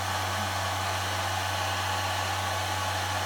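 Heat gun warming a stick of sugar for sugar art, a steady, close, loud blowing roar with a constant low motor hum throughout, no talk.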